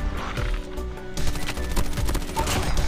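QQ9 gunfire in a video game, heard as rapid bursts of shots at a moderate level, with crackling impacts between the volleys.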